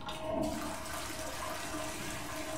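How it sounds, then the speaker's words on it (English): Toilet flush in the video game Soma, a loud rushing swirl of water that runs steadily from start to finish. "Can I flush this down?"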